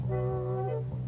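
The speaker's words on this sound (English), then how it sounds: "the beam and echo sound something like this." An ultrasonic tester's beam and echo from a sound crankshaft casting: a steady electronic hum with a higher, wavering whine layered over it, holding level for about a second before the upper tone drops away.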